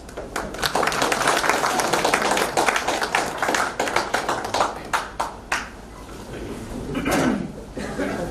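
An audience claps for a poet arriving on stage at a poetry gathering, a dense burst of applause that thins into scattered claps, with someone speaking over it.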